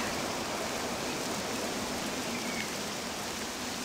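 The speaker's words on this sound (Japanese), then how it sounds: "雨の毒が強くなってる。" Rain pours in Octopath Traveler II on PS5 as a constant, dense, steady wash of rainfall for several seconds, with no speech over it.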